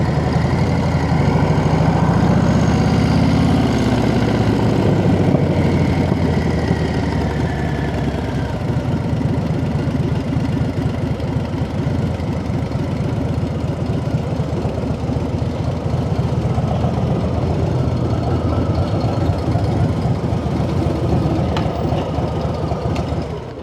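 Motorcycle engine fitted with a Tab Performance slip-on exhaust, a loud steady low rumble close by that holds for over twenty seconds with a slight swell early on, no clear talking over it.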